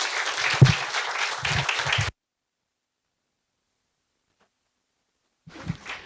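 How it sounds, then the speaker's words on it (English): Brief audience applause at a talk event about Paris, a couple of seconds of clapping that cuts off abruptly into silence, with a faint return of sound just before the end. "Please help me welcome them with a big round of applause."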